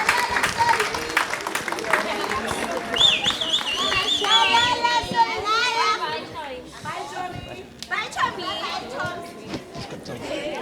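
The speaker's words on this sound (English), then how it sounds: "give the Chancellor a round of applause" Audience applause for the Chancellor at a spring university graduation ceremony, a broad, steady wash of clapping with crowd chatter that continues for the whole stretch without pause.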